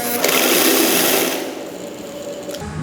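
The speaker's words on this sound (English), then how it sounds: "We're sewing a shade because it's really hot out and we desperately need it" A sewing machine stitches a fabric sun shade in a sailboat cockpit in hot weather, running at a steady close whir that eases slightly partway through.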